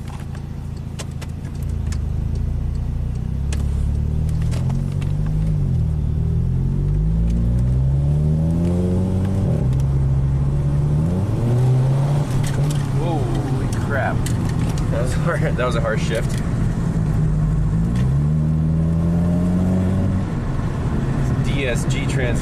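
A car's engine runs smoothly while being driven, a steady low hum with rising and falling revs; someone talks over it throughout.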